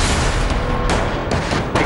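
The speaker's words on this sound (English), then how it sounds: "troops firing rockets" Troops firing rockets during a military artillery drill make a continuous, loud, roaring blast with a few sharper bursts, a thick wall of booming fire throughout.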